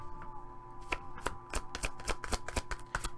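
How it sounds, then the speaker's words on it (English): Large oracle cards are shuffled by hand in a series of crisp riffling bursts, close up and alone, with no talking. "How many ways can we shuffle these big cards?"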